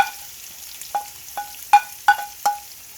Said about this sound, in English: and now we're just cooking the garlic first